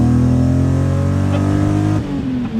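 A BMW E30 M3 fitted with an S54 engine revs hard while accelerating, its loud, steady engine note climbing for two seconds before easing off as a gear change comes in near the end.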